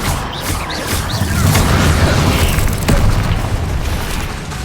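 Expelliarmus spell cast during combat in Hogwarts Legacy, a loud, rumbling magical burst with booming impacts and a crackle, sustained for several seconds amid other fight noise, no voices.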